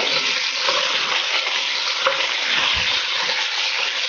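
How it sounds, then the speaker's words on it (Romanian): Meat browning with caraway seeds in a pan for goulash soup, a steady bright sizzle with faint stirring scrapes, close and continuous with no talk. "Și rumenim carnea la un loc cu chimănul."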